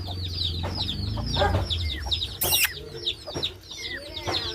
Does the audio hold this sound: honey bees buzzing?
no